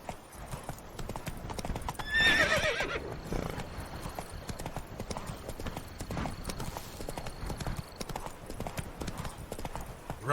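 Geralt's horse Roach gallops in The Witcher 3: Blood and Wine, a steady close clip-clop of hooves with a sharp neigh early on, over soft game ambience.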